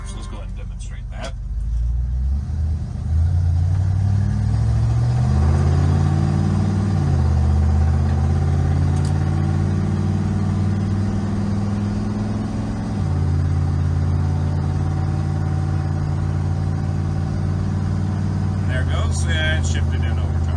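A 1980 Ford F-350 service truck on the road, its engine drone rising as it accelerates and dropping as it shifts into overdrive, steady and close from inside the cab with a brief clatter near the end.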